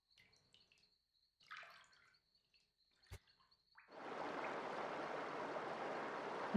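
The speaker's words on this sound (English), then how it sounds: "Draining the water." Water drains in the video game Tengami, a steady rushing wash that surges in after a few faint clicks and tones and then keeps flowing loudly to the end.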